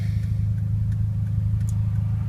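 A car engine runs steadily at close range, a low continuous hum with a constant drone and no voices.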